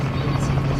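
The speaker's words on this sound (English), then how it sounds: "More helicopter action coming out from behind as well." A helicopter at Zurich Kloten Airport gives off a steady, loud rotor drone with a low throbbing hum.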